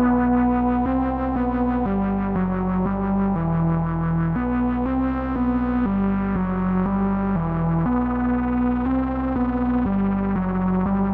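A buzzy Logic Pro Alchemy synthesizer tone playing a repeating note pattern, its waveform shifting from a bright, harsh saw toward a smoother, rounder sine, steady and loud throughout.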